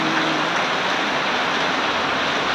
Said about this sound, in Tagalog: lagi na lang umuulan